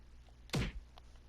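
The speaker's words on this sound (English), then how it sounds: "The woman just collapsed." In the video game Raging Loop, a woman collapses to the floor with a single dull, heavy thud that lands abruptly and dies away quickly against a quiet background.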